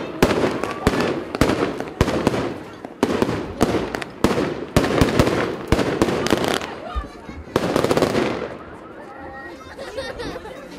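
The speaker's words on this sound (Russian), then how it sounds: "представители церкви устраивают фейерверк" Fireworks set off by the church at Easter crackle and bang in rapid, loud bursts overhead, a dense string of sharp pops with crowd voices talking underneath.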